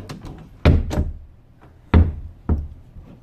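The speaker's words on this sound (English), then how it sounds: "Close the door." A door being closed, heard as a few close wooden knocks and thuds spread unevenly, a couple of sharp impacts with softer bumps between, loud against a quiet room with no talk.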